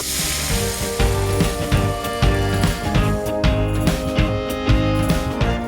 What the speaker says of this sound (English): The first thing is the pork, going to go into the pan with oil when it's smoking hot